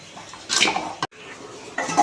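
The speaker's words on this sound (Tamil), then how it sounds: "தண்ணி லைட்டாக ஊற்றி இப்படி கிளறிக்கலாம்" A spoon scrapes and clatters around a cooking pot in a few short bursts as vegetables for sambar are stirred with a little water.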